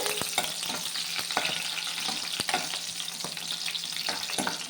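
Crushed garlic and chillies frying in a pan, a dense, steady sizzle up close broken by quick scraping strokes of a spatula, with no talking.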